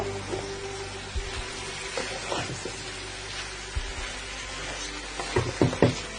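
Potatoes and mixed vegetables fry in a pan as they are stirred together with spices, giving a steady low sizzle with scraping stir strokes that grow louder near the end.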